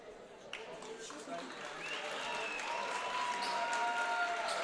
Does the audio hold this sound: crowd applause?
yes